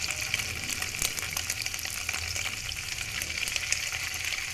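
Paneer pieces sizzle and spit in hot oil in a pan while butter paneer is cooked, a steady close crackle running throughout with small bursts.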